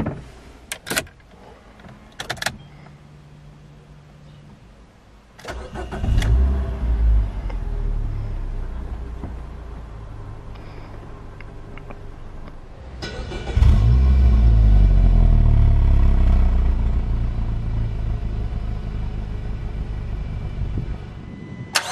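A 2020 Dacia Dokker with the 1.6 SCe petrol engine and five-speed manual cranks and catches, settling into a low, steady idle rumble, with a louder swell partway through and a few sharp clicks beforehand.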